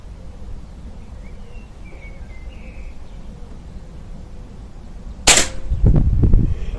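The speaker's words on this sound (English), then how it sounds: "That was the last shot." A single sharp gunshot cracks out nearby after a long quiet stretch of outdoor ambience, followed by a rumbling echo and low reverberation that rolls on for about a second, with faint birdsong in the background.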